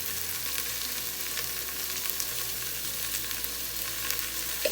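Meat sizzles over onions in a pan with spices and salt, a dense steady frying hiss broken by faint scrapes and clicks as it is stirred and turned.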